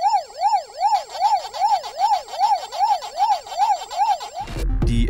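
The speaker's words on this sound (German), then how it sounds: "mit einer Taste auf der Fernbedienung der original Pac-Man-Sound" Electronic siren-like warbling from a Pac-Man RC racer toy's remote playing the original Pac-Man arcade game sound, a steady rising-falling wail repeating about twelve times, loud and close, ending in a burst of noise.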